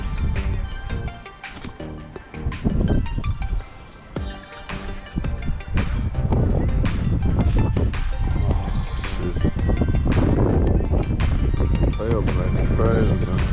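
Strong wind buffets the microphone beside Houston Lake during a high wind advisory, roaring loudly and continuously while someone talks over it.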